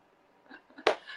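A single sharp sneeze bursts out close by, preceded by a couple of faint breathy intakes and followed by a softer trailing sound, during a makeup color-matching tutorial.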